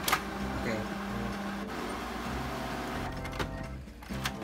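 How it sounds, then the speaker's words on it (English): A printer working through a very small drawing of a Rubik's Cube, giving a steady low mechanical whir with rhythmic stepping pulses and brief clicks, fairly quiet and continuous for several seconds. "it's printing"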